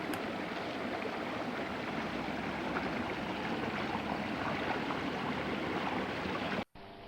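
Water running in a spring branch stream at a waterworks, a steady broadband rushing and gurgling flow that holds close and constant throughout before cutting off abruptly near the end.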